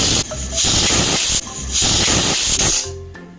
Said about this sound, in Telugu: ఇప్పుడు కుక్కర్ మూత వేసి 3 విజిల్ వచ్చే వరకు ఉడికించండి